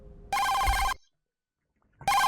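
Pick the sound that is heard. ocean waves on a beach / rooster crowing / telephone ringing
telephone ringing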